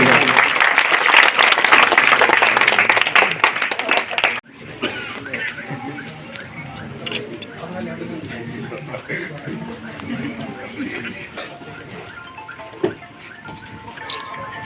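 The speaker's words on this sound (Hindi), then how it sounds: "जोरदार तालियां बजा के स्वागत करेंगे।" Rally crowd clapping to welcome Shruti Chaudhary, loud dense applause for about four seconds that then cuts to a quieter, murmuring crowd with scattered claps and voices.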